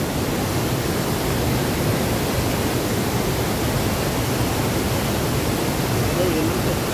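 Pha Ba waterfall, a murky-water cascade in Thailand, pouring as a constant dense broadband roar that stays loud and even throughout, with no clear speech on top.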